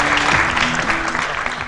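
A studio audience on a Saudi sports TV program bursts into loud, dense applause, many hands clapping at once in a brief, steady burst without a break.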